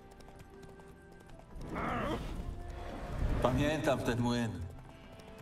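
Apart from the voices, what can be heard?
horse Roach (Płotka) hooves clip-clopping in The Witcher 3 video game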